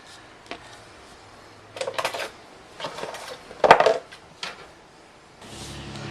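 Sauteed onion, green onion and bacon drippings scraped into a pot for homemade cream of potato soup, heard as a few scattered clinks and knocks of utensil against cookware, with a louder clatter midway and quiet gaps between.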